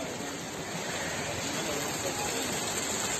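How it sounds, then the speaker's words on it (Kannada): Heavy rain pours down in Bengaluru during a storm with hail, making a dense, steady roar of water that holds at the same loudness throughout. "ಬೆಂಗಳೂರು ಮಾತ್ರ ಅಲ್ಲದೆ ಬೇರೆ ಬೇರೆ ಜಿಲ್ಲೆಗಳಲ್ಲೂ ಕೂಡ ಭಾರೀ ಮಳೆಯಾಗಿದೆ."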